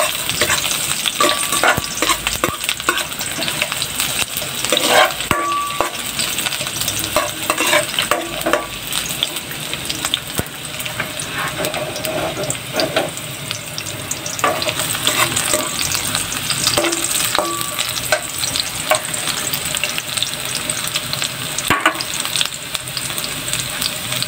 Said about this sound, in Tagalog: palabasin na natin yung amoy ng luya at sibuyas